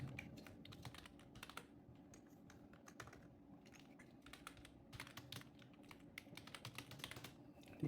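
Quiet, steady typing on a computer keyboard, a fast run of light clicking keystrokes with short pauses, heard close and alone without speech.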